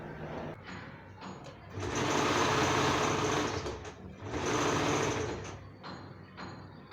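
A sewing machine stitches two cloth pieces for a plazo, running in two loud, steady whirring bursts with short quieter pauses and mechanical clicks between them.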